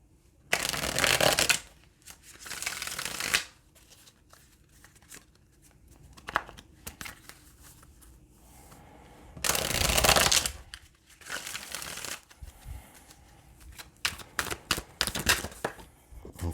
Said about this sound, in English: I'm going to pull 3 cards for clarification from